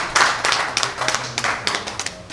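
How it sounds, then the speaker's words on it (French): An audience at a book presentation and talk gives a short burst of clapping, a patter of hand claps that rises and tapers over a couple of seconds, fairly close, without talk. "je vous demande juste de l'applaudir"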